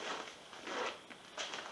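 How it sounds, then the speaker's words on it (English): Zipper on a cycling handlebar bag being pulled open, heard as short rasping bursts in a quick uneven rhythm, close and fairly quiet, with no talking. "Over here there's a zipper"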